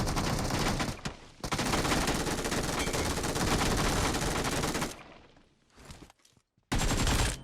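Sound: shotgun gunfire in the video game PUBG Mobile

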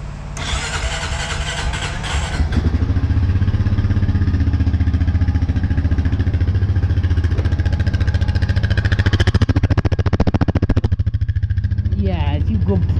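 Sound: 2013 Honda Rancher 420 ATV engine running

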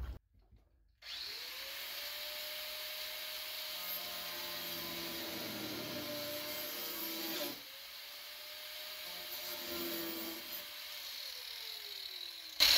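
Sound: worn stone cutter blade cutting plastic

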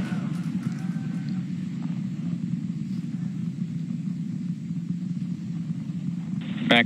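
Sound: SpaceX Super Heavy rocket engines roaring during launch

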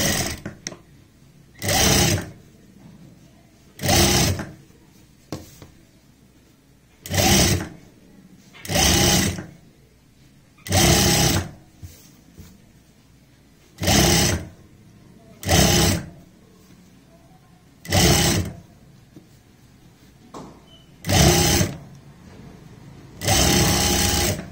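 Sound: sewing machine stitching a bias strip onto a neck design

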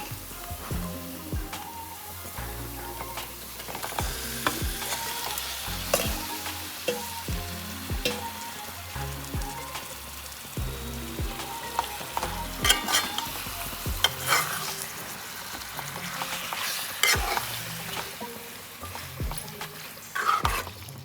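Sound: chicken frying and being stirred in a curry pan

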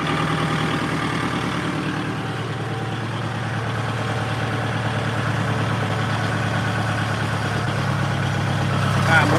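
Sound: engine idling, told not to rev

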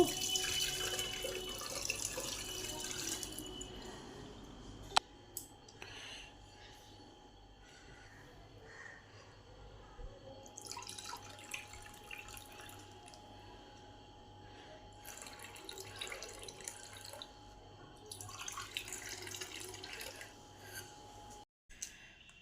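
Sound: straining tamarind Amlana sherbet

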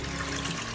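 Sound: toilet being flushed, water running

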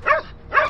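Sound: dogs barking while eating animal remains

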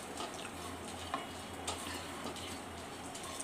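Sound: frying cardamom and spices in mustard oil

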